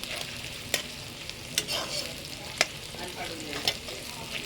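Onion fries in oil until fully charred for a traditional village-style chicken fry, giving a steady low sizzle broken by several sharp spoon clinks and stirring scrapes against the pan.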